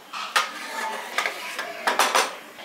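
Potatoes and water stirred in a cooking pot for a village-style brinjal potato masala, with several clattering scrapes and knocks of the spoon against the pot at an irregular pace, close and fairly loud.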